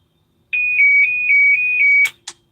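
A loud, close electronic alarm tone on a treatment device, prompting a press of its response buttons, pulses in a steady series of about six beeps for roughly one and a half seconds, then stops with a couple of sharp clicks.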